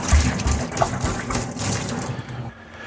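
Tap water runs and splashes while cider-making equipment is rinsed after washing with PBW cleaner, a steady close gush with low sloshing that eases off near the end.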